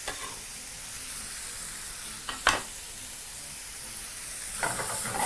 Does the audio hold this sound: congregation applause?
no